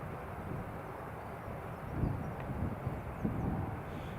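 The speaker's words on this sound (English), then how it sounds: "Well, Ryanair is now taxiing." A Ryanair Boeing 737-800 airliner taxiing at Newcastle International Airport, heard as a faint, distant low engine rumble mixed with wind noise, swelling slightly a couple of times.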